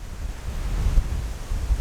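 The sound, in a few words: wind blowing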